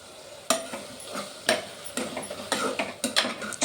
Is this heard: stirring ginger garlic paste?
yes